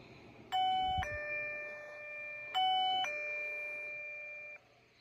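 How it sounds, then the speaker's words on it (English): A LETWESAF radar motion alarm plays a two-note electronic ding-dong chime twice in succession after sensing motion, clear and fairly loud against a quiet background. "That chime is the noise that it makes when it has sensed motion"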